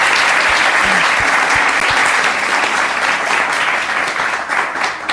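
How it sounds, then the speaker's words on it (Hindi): Studio audience on a Pakistani morning television show breaks into loud, sustained applause, dense clapping continuing without pause for about five seconds with no voices over it. "बहुत सारी तालियां"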